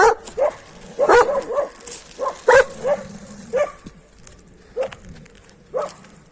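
An Alabai dog barks and yips repeatedly in uneven bursts, close and fairly loud, with whiny high-pitched barks scattered over several seconds.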